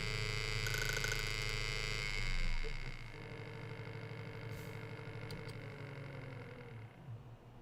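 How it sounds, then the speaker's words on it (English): A running Option-O P64 machine with a rattling noise: a steady motor hum with a gritty rattle layered over it, shifting in pitch partway through and continuing at an even, moderate level. "I'm a little weirded out by that rattling noise"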